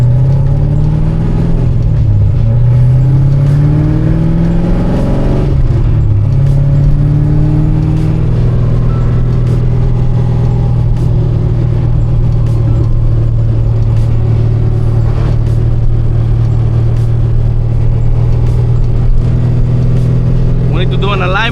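A JDM Corvette engine drones loud and close on a quick street drive, its steady low hum rising and sagging with throttle changes, with a few brief clicks over the top.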